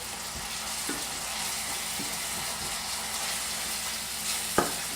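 Tomato sauce ingredients sautéing in a pan on an induction hob, a steady even sizzle with occasional faint utensil taps and one sharper knock near the end.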